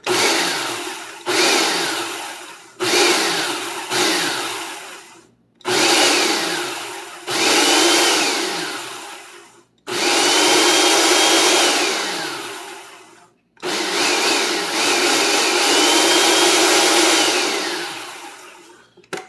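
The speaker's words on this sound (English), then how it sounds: "I added some regular breadcrumbs to the mix, and I'm gonna give it a few pulses here" Food processor pulsing a shrimp burger mix with added breadcrumbs: a string of short, loud motor bursts, the first few quick and choppy, then several longer whirring runs with brief pauses between them.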